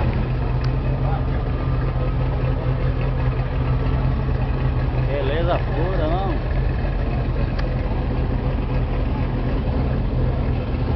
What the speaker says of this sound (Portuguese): Olha o motor da carro.